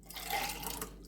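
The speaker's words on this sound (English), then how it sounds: "Just going to rinse out that tin" Water runs from a kitchen tap over a tin being rinsed out during home cooking, a steady close splashing hiss lasting about a second with no talk.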